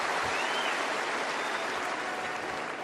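Tennis crowd at the Australian Open 2013 applauding during a third-round match between Djokovic and Stepanek, a steady, dense wash of clapping that fills the whole moment without pause.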